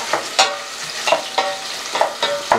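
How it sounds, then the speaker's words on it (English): Onions and garlic sizzling in a hot pan while being stirred, giving a steady crackling fry punctuated by regular scraping strokes of the spoon, close and clear with no voices. "garlic, stirring it until the onion's translucent"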